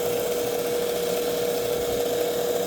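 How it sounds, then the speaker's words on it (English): Belt grinder grinding the choil of a pocket knife, a loud steady abrasive whine with a constant pitched ring running unbroken throughout. "And there's our final grind. I'm just going to touch it right down there in the choil spot."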